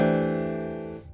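A five-note chord voicing struck on piano, played once as a single full, rich chord that sustains for about a second before being released.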